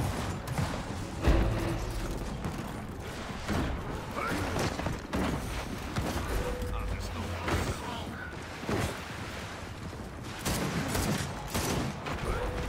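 Mounted turret firing in Gears of War 4 multiplayer, rattling out dense, continuous bursts of automatic gunfire with heavy thumps, sustained through the whole stretch at moderate loudness.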